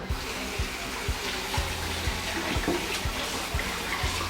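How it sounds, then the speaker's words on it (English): Steady rush of cold tap water splashing into a sink as a turkey is washed, with faint irregular knocks and handling sounds underneath, no talking. "So I'm gonna wash this, cold water."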